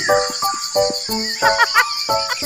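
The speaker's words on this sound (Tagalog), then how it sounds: "Marinig mo mga kuliglig, no?" Crickets chirp in repeated bursts of rapid pulses, fairly close and steady, with a high insect drone running underneath.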